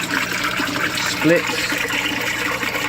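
Water from the pump flowing through a small modular aquaponics system, a steady close gush and trickle running throughout beneath someone talking.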